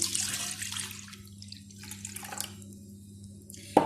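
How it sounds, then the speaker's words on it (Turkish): Warm milk poured onto fresh yeast in a basin for dough, a short trickling splash at the start that tapers into faint drips over a steady low hum. "Koyduktan sonrasında ılık sütümü ilave ediyorum."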